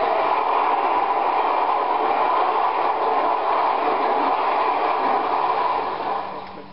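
A train roars past nearby with a steady, dense rushing rumble and faint rhythmic clatter, fading slightly at the end.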